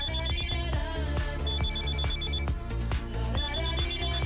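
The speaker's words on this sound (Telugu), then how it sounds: "ముందు ఫోన్ కలుపు." A telephone rings on an outgoing call in a Telugu film comedy scene, repeating short bursts of high tone over loud, busy background music.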